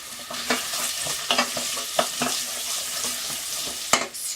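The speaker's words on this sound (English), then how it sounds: "So if we just get that in, we start frying up." Steady sizzling of garlic frying in a pan for an Indian chicken curry in a home kitchen, with occasional sharp clicks and scrapes of stirring.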